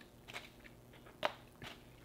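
A crunchy pork rind is bitten and chewed up close, a few faint crisp crunches spaced out over two seconds with one sharper snap in the middle.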